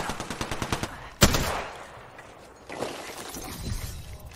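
Gunfire in the video game Apex Legends: rapid automatic bursts crack out in quick succession, then a sharp single shot, a brief lull and another burst, all fairly faint and with no voices.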